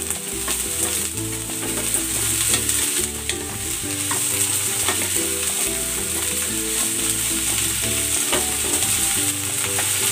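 Chopsuey vegetables, including cauliflower, carrots and baguio beans, sizzle loudly in a hot pan while being stirred, with steady frying hiss and occasional scrapes and clinks of the utensil, no voices.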